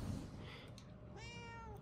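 A cat in the Murdered: Soul Suspect video game gives a short, faint meow near the end, over a quiet game background hum.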